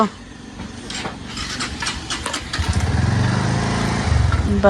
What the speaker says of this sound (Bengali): মোটরসাইকেল স্টার্ট করতেছে না ট্যাং ট্যাং ট্যাং ট্যাং করতেছে